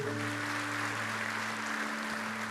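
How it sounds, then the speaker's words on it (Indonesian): A church congregation claps in praise, producing a steady, even roar of applause with a low electrical hum running beneath it, sustained without a break. "Kasih tepuk tangan dulu buat Tuhan"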